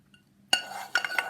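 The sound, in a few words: wooden spoon stirring inside a pot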